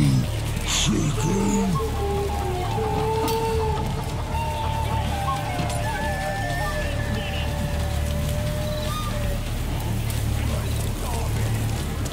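Chicken clucks in Baldur's Gate 3, a few short calls near the start over a steady game ambience with music-like tones, moderately loud throughout.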